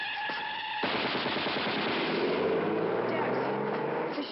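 Gunfire from an old Superman adventure episode rattles out in dense, rapid machine-gun-style bursts that sound loud and sustained for about four seconds, with voices mixed in.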